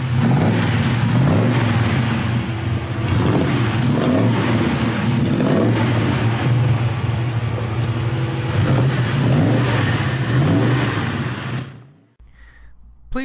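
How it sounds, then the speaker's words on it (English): A Chevrolet big-block V8 engine in a 1950 Studebaker pickup revs loudly and repeatedly up close, rising and falling in pitch with a rough burbling rumble, then cuts off abruptly near the end. "let's listen to that Chevrolet big block V8 engine"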